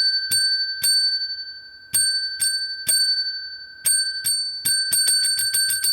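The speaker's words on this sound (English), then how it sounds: "Let's ring the bell for this one because we deserve it." A small bright bicycle-style bell rung in celebration, sharp metallic dings at first spaced out and irregular, then quickening into a rapid run of rings near the end, close and clear with no talking.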